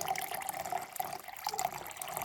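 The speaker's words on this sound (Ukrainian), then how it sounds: "беру ось таку тару, беру тепленьку водичку і налила" Warm water pouring into a container for plant feeding, a soft, fairly quiet trickling stream that keeps running without a break.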